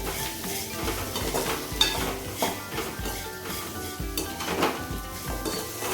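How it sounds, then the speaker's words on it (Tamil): Masala powder is mixed into cooked rice in a pot for gooseberry rice, a spoon scraping and clinking against the metal in a busy, continuous rhythm with frequent sharp taps, close and fairly loud. "மசாலா பொடி கலந்து வச்சுக்கலாம்."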